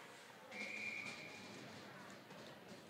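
A referee's whistle blows once, a short bright blast, during a Division 2 college ice hockey game between Bradley University and Iowa State. It sounds over steady arena crowd noise.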